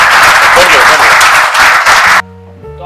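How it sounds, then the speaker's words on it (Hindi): A loud burst of audience applause for Rahul at a de-addiction event in a Hindi film, dense clapping that cuts off sharply after about two seconds, followed by quieter room tone. "जोरदार तालियां राहुल के"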